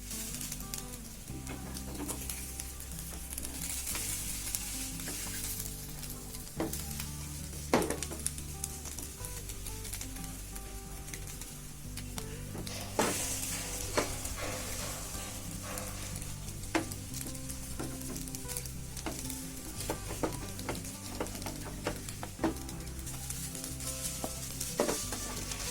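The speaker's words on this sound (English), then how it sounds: "Cook until nicely brown on the bottom. Then flip it over and cook the other side until brown." Hash browns frying in a pan, a constant soft sizzle with occasional clicks and scrapes of a utensil, steady and close with no voices.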